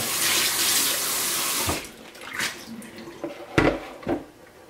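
Running tap water splashes steadily over peeled potatoes being rinsed for homemade French fries, a continuous hissy flow at first, then broken into intermittent splashes and knocks as the potatoes are handled in the sink.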